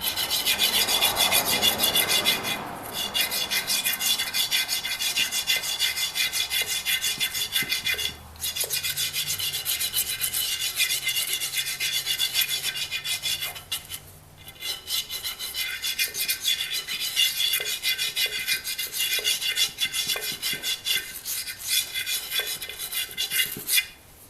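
A stick of soapstone weld marker rubbed against the disc of a Craftsman 109.22370 disc sander, a steady dry scraping rasp with a few brief pauses, close and fairly quiet, with no voices.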